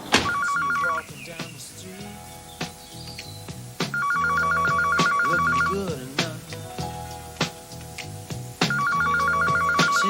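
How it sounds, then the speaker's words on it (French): An electronic telephone rings in three repeated bursts, loud and close, with clicks and movement sounds between the rings. "il faut que je téléphone à Loreux."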